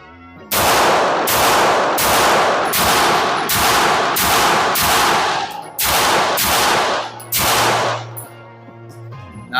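Rapid shots from a Glock 48 pistol fired at a range, about ten loud sharp reports in quick, slightly uneven succession, then a brief pause before a final few shots.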